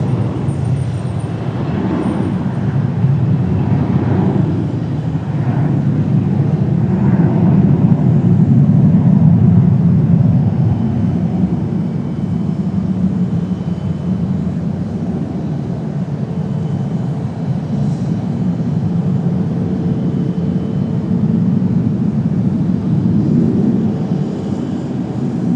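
An American Airlines regional airliner, operated by PSA, takes off from runway 5 left at Raleigh-Durham airport, a loud, steady low roar heard from a distance that swells and then holds for about twenty-five seconds.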